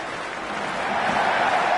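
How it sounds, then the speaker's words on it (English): Stadium crowd in the cricket video game Cricket 26, a steady dense roar of cheering that swells slightly toward the end, sustained and without individual voices standing out. "There's an almost tangible fervour throughout the crowd at the moment."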